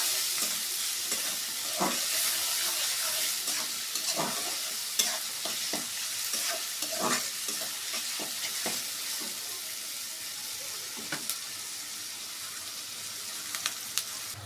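Chopped onions fry in a pan with a continuous hissing sizzle, punctuated by repeated light scrapes and taps of a spoon stirring them at close range.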